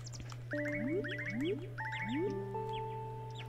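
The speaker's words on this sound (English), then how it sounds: "there's birds in here" Chirpy, bouncy bird calls in the Animal Crossing: New Leaf video game, a few repeated rising trills and tweets layered over a steady low game hum.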